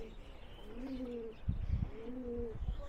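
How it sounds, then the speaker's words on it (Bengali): Caged white pigeons coo softly at Tajpur, two drawn-out, gently rising calls with light rustling and shuffling between them, faint and close. "এই যে অনেক সাদা পায়রা আছে এখানে"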